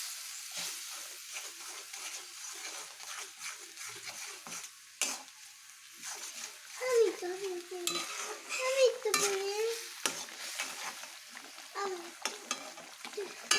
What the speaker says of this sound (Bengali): মশলাটা একটু কষে যাক।